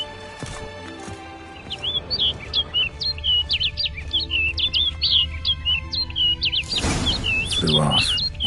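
A bird in The Witcher game chirps in quick repeated bursts, steady and fairly clear, running through a low ambient bed, with a louder rustling swell near the end.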